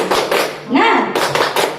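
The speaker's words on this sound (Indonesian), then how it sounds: "kita tepuk semangat dulu ya, biar semangat ya" A classroom group doing a rhythmic Indonesian spirit clap, sharp unison hand claps in short patterned bursts, close and loud, broken in the middle by a voice calling out.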